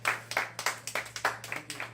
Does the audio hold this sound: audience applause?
yes